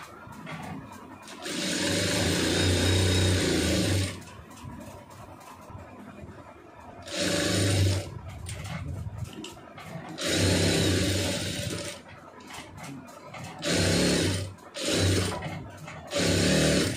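A sewing machine stitches a blouse lining in bursts of rapid, loud mechanical whirring, each run stopping before the next, with a couple of short runs near the end.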